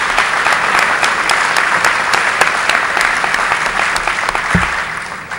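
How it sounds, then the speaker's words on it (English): A large crowd claps at a high school graduation awards assembly, loud, sustained applause with crisp individual claps standing out, easing slightly near the end. "Give yourself a round of applause because you've earned it and deserve it."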